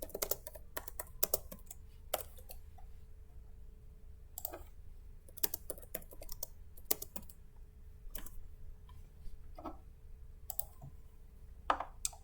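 Soft, irregular keystrokes tap on a computer keyboard in quick clusters with pauses, faint and near against a quiet room hum.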